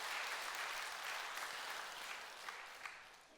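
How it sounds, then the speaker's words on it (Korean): A church congregation claps together in a dense, steady round of applause that stays even, then thins slightly toward the end. "영광 정말 박수해 박수"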